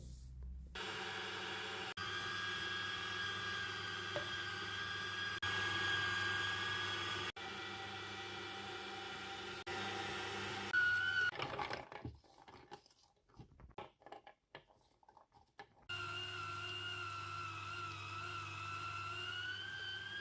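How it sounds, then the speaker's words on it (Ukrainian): An electric meat grinder fitted with a fine sieve grinds lard for a garlic-scape spread. Its steady motor whine runs quietly, breaks into uneven crunching and clatter midway, then hums on again. "Усі інгредієнти буду я подрібнювати на електром'ясорубці з дрібним ситом"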